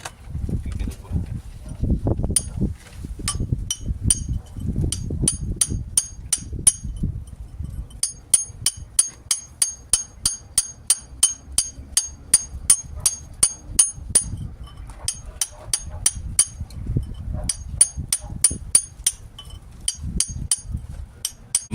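A chisel is hammered into a metal gate, a double-leaf 2x2 m door; sharp metallic clinks start irregularly amid low rumbling, then settle into a steady, rapid series of close, ringing blows.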